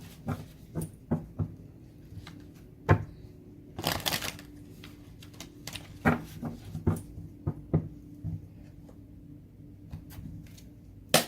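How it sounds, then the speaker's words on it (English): A tarot deck, the Archetypes and Shadows cards, being shuffled by hand: soft riffling flutters and sharp card snaps arrive in uneven bursts, close and fairly quiet, with short pauses between handfuls. "So let me just shuffle this deck."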